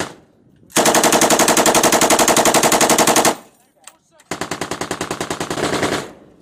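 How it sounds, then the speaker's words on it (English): Sustained, loud bursts of machine gun fire from attack helicopters (AH-1 SuperCobra and AH-6) strafing a village during US Marine training, two long rapid-fire bursts separated by a brief pause. "Hey gents, shift your machine guns to the double stack."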